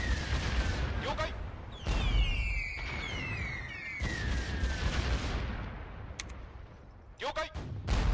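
Naval gunfire from the battleship Yamato in Teitoku no Ketsudan 4, heavy booming salvos and rumbling blasts with whistling shells, continuing under occasional voices.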